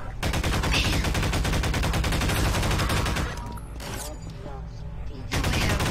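Rapid bursts of gunfire fill a Half-Life 2 co-op match in Garry's Mod, dense automatic shots close and loud, with a brief dip in the firing before it resumes, and a voice speaking over it.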